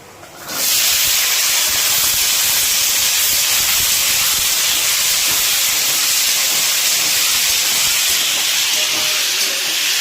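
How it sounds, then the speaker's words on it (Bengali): Small diced potatoes hit hot oil tempered with dried red chillies and spices, bursting into a loud, close, continuous frying hiss that holds steady for the whole stretch, with no other sounds. "যতক্ষণে এখানে আলুটা এখনো ভাজা চলছে"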